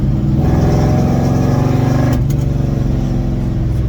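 A 1969 Dodge Charger with a big block engine accelerates, its loud, deep, throbbing exhaust rumble steady and close for several seconds with a slight shift midway; no voices.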